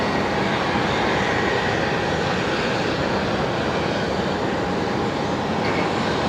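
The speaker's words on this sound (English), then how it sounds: "we got a Qantas 73 heading out next here, runway 19 left from the Alpha 3 intersection" A Qantas 737 jet roars steadily on departure from runway 19 left at Brisbane Airport at night, a loud, continuous broadband rumble with no talking.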